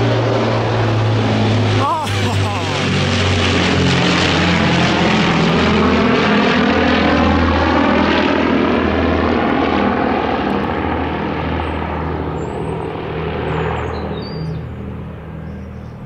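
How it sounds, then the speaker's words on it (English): An Avro Lancaster bomber of the Battle of Britain Memorial Flight passes overhead, its piston propeller engines building to a loud, throbbing drone that sweeps in pitch and then slowly fades into the distance. "That was the Battle of Britain Memorial Flight, the Avro Lancaster"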